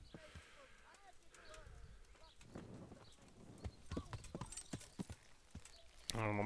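Horse hooves clip-clop in the medieval role-playing game Kingdom Come: Deliverance, a quiet, uneven run of footfalls that grows busier toward the end under soft in-game ambience.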